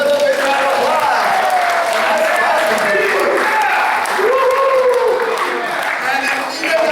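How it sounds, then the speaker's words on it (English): A crowd gives loud, continuous applause and cheering for a cooking crew. The clapping is dense and sustained for several seconds, and voices rise over it. "Let's give them a big round of applause."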